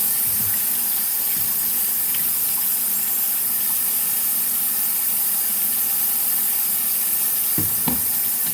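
A kitchen tap running steadily while someone cooks, a continuous loud hiss of water with a few faint clinks near the end, and no talking.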